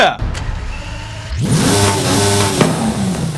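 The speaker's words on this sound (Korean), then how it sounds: "제가 시동 한번 켜볼게요" Mercedes-AMG ONE hypercar in Forza Horizon 5 starts with a loud starter crank, then its engine catches and settles into a steady, close-up rumbling idle with a brief rev blip; a voice talks over it.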